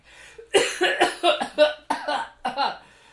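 A person coughs repeatedly at close range, a run of seven or eight harsh coughs in quick succession.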